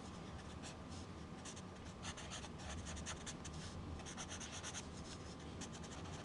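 Charcoal pencil sketching dark shading on paper, a steady close scratchy rubbing of repeated strokes that continues without pause, with no talking.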